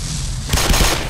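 Gunfire in the Black Mesa video game, a short burst of rapid shots cutting in halfway through and continuing to the end, loud and close.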